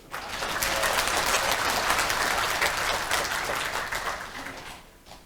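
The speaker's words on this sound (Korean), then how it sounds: "맞다면 박수 쳐주세요" A crowd in a National Assembly conference hall, at a veterans' rally, breaks into steady applause that swells quickly, holds loud, and tapers near the end.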